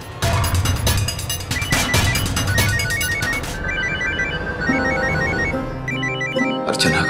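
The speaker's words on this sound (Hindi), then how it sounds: "अर्चना का फोन है, क्या कहूँ इससे?" A telephone rings with a repeating electronic ringtone pattern, starting under a loud crash and clatter of noise, then continuing clearly in short regular bursts near the listener.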